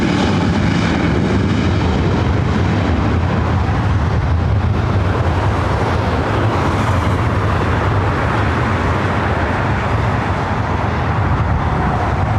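An airliner departs LAX with a loud, steady roar of jet engines, broad rumble holding throughout with a slight swell midway.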